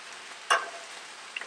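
Chopped vegetables, including onions for fried rice, frying on high heat on a Blackstone griddle, a steady close sizzling hiss broken by one brief scraping stir and a faint tap near the end.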